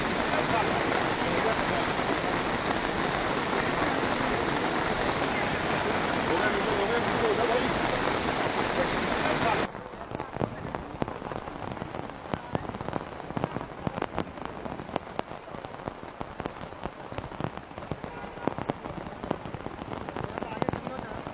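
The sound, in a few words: rain falling at Parliament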